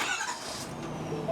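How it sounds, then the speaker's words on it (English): A mechanics truck engine cranking and catching, a steady broadband rumble with a faint rise near the end, close by with no talking. "We're just gonna start this truck."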